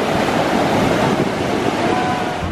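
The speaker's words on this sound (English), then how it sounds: "Oh, look at those waves." Ocean waves break on a beach in a loud, continuous roar of surf mixed with wind buffeting the microphone, close and steady throughout with no talking.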